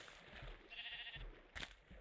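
Sheep in the Minecraft video game bleat in a few short, wavering calls spaced across a quiet background, one louder bleat standing out near the end, with no talking.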